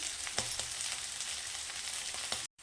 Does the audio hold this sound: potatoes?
yes